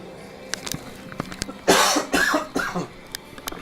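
Three harsh, close coughs in quick succession, preceded by faint clicks and small noises.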